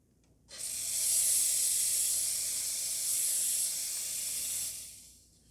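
Steam wand on an Anko coffee machine purges with a loud, steady hiss of rushing steam lasting about four seconds, starting abruptly and cutting off cleanly, with no voices.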